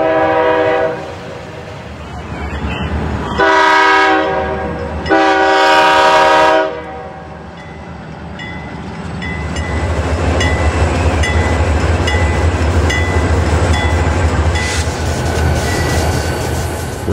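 Two CSX freight trains meet in a small-town downtown as one sounds a series of loud horn blasts over a rumbling engine, followed by a long, steady roll of rail cars passing close by.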